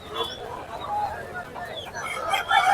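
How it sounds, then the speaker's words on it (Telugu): Chickens at the Gokavaram village market give a run of clucks and short crowing calls. The sound is moderately close and sits over a busy background of market chatter. "కొంచెం కోళ్ళు కూడా పెరిగినాయి."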